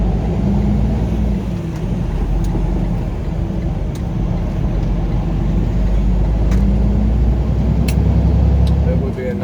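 A truck engine, heard from inside the cab on an I-10 haul, drones steadily and loudly with low rumble and small shifts in pitch as gears change, while someone talks over it.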